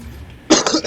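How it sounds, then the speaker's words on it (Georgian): Coughing in a Fortnite OG game session, a short burst of a couple of harsh coughs after a quiet half-second, close and fairly loud. "ეს ხველებები სამოჭრე"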